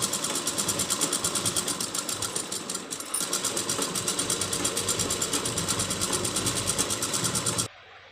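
A sewing machine runs steadily, stitching a lined blouse in a continuous, rapid, loud rattle with a brief dip midway, then cuts off sharply near the end into quiet.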